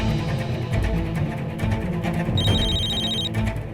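A telephone rings with a bright electronic trill over a busy, noisy background, the ring lasting about a second before stopping.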